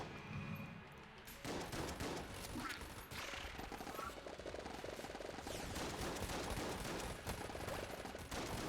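Vulcan cannon in the video game Enter the Gungeon fires in a loud, dense, continuous stream of rapid gunfire, with chaotic layered shots and game effects, and no talk over it.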